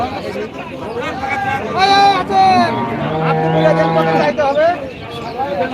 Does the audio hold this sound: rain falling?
no